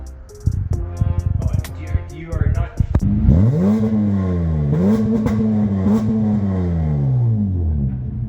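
A 2014 Acura MDX with an RV6 J-pipe and RV6 downpipes starts with clattering, then revs up loudly and holds a steady, rising exhaust drone close to the microphone.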